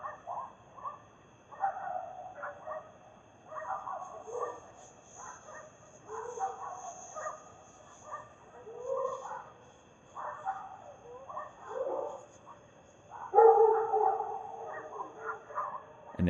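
Dogs barking and yipping in a night recording, a run of uneven barks and whimpers through the stretch, somewhat distant and faint, with one louder burst of barking near the end.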